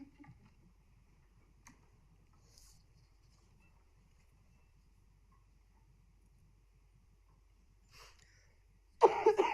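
A single harsh cough bursts out loudly near the end of a long, almost silent stretch in a commission meeting room, from a person with a lingering three-week cough.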